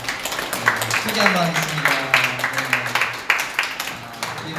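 A church congregation claps together during a cold outdoor worship service, a steady patter of many hands under a voice leading from the front, continuing for several seconds.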